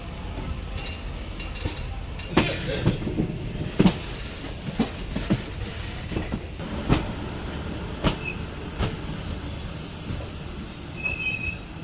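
The Jabalpur Chanda Fort Superfast Express rolls on after leaving Gondia, with a steady rumbling run, wheels clicking over rail joints, and a high, drawn-out wheel squeal rising in the second half.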